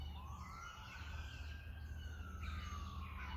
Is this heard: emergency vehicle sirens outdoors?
yes